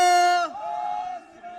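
At a Punjab political rally a crowd raises a Sikh jaikara battle cry, a loud held chanted shout that breaks off abruptly into a quieter sustained tail of voices, with a reverberant, amplified quality.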